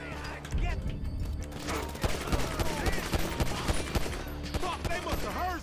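Rapid bursts of gunfire from Grand Theft Auto 5 PC gameplay, sharp repeated shots through the clip over a dense game soundscape, loud and close.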